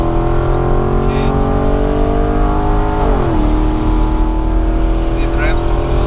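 The 4.2-litre V8 of an Audi Allroad C5 revs hard and loud toward 6,500 rpm, heard from inside the cabin, its pitch climbing steadily, dipping briefly at a gear change, then pulling up again.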